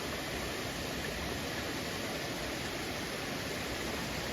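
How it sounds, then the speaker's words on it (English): A small waterfall at Cromwell's Bridge in County Cavan gives a steady, unbroken rush of falling water, close and constant with no voices over it. "the waterfall there."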